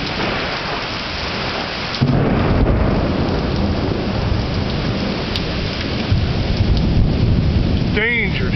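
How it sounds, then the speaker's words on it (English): Heavy rain pours steadily through a pre-dawn electrical storm as a deep, loud thunder rumble rolls in and lingers, with a brief faint voice-like sound near the end. "Dangerous lightning bolts."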